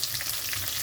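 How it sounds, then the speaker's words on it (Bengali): Whole cumin seeds and green chilli sizzle in hot oil for a brief moment, giving a steady, close crackling hiss with no talking. "ওই তেলের মধ্যে দিয়ে দিচ্ছি গোটা জিরে, এখানে দিয়ে দিচ্ছি কাঁচা লঙ্কা"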